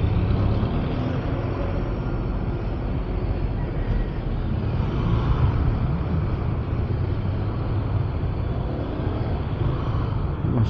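Busy Manila road traffic from a moving ADV 160 scooter, a steady broadband roar of engines and wind rumble that continues without a break and with no voices.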